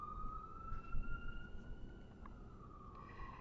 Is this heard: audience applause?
no